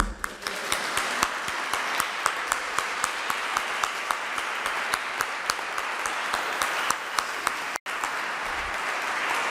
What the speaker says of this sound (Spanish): Así que un aplauso yo creo que merece, ¿no?